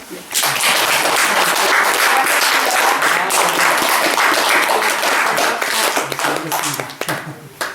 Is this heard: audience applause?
yes